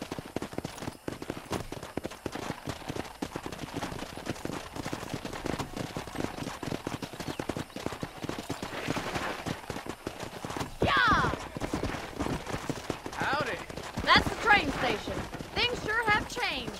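Rapid clip-clop of galloping horse hooves in the video game Red Dead Redemption runs throughout, with a horse whinnying and people talking over it toward the end.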